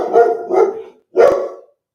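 Noodle the dog lets out three loud barks up close: two quick ones in succession, a brief pause, then a final bark.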